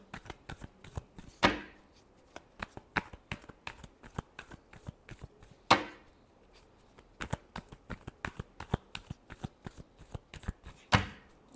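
Tarot cards shuffled by hand during a Virgo weekly reading, a dense run of crisp riffling flicks and taps with three louder card-slap bursts, close and alone without talk.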